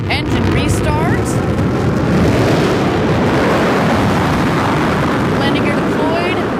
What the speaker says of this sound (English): we're going to get the BE-3 engine to restart.